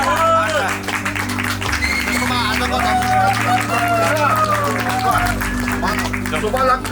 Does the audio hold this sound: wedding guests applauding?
yes